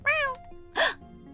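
A cat meows in a video game, one clear rising-falling call followed by a second, brighter meow, both short and close with quiet gaps between.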